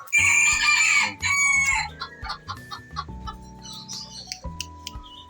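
A rooster crows loudly and close up, followed by a series of clucks and shorter calls from the fowl, with no speech.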